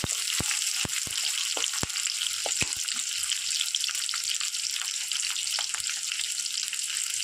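Capsicum pieces frying in a pan after onions, for a vegetable gravy pasta: a steady, bright sizzle with scattered sharp clicks of stirring throughout, no voices.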